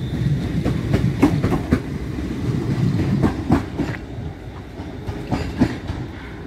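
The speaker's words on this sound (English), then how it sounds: "Here's the somehow semi-express train to Glasgow Central departing." A semi-express train pulls out of Gourock bound for Glasgow Central, wheels clacking over rail joints in an irregular rhythm with a low rumble, fairly close and steady.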